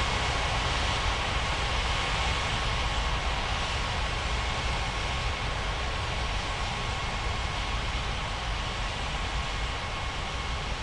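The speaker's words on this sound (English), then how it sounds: "Korean 8947 taxi to runway 35 right" Airliner taxiing toward runway 35 right in the Unmatched Air Traffic Control mobile game: a continuous, steady broadband jet engine hum that holds at an even moderate loudness throughout, with no voices.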